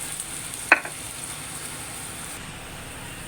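Garlic and onion frying together in cooking oil, a faint steady sizzle throughout with one brief sharp crackle or stir-clatter early on, no talk.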